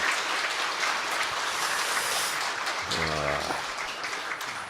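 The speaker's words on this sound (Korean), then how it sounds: "한번 영광의 박수, 축복의 박수 보내주시기를" A church congregation applauding in a large room, a steady wash of clapping with a brief Korean voice rising over it midway.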